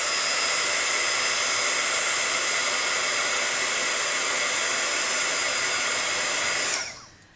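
A heat tool blows steadily and loudly at close range to heat metal embellishments, a broad even whoosh running alone for about seven seconds before cutting off.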